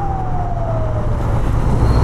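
An ambulance siren wails in traffic on Canal Road in Lahore. Its tone slides downward steadily, loud and close, over heavy road and engine rumble.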